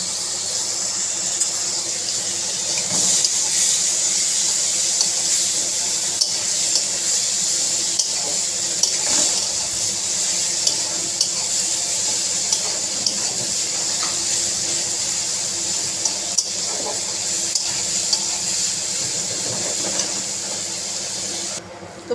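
Onion and garlic frying in oil in a pan give off a steady, loud hiss with scattered crackles, continuing evenly throughout.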